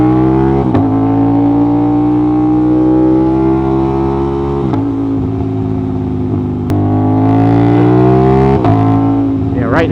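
An Aprilia RS660 motorcycle with an SC Project CRT exhaust runs loud and close, its steady engine note rising and falling in short revs.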